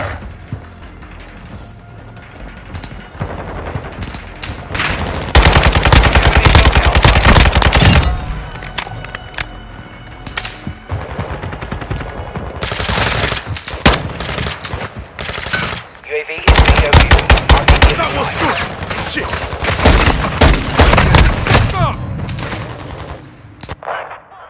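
Automatic gunfire rattles in Call of Duty: Modern Warfare 2 multiplayer, with loud sustained machine-gun bursts and scattered shots coming in waves over battlefield noise.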